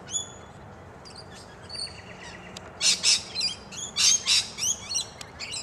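Rainbow lorikeets squawking in trees along a suburban street in the morning, sharp shrill screeches in quick bursts that grow louder midway, with thin background chirps.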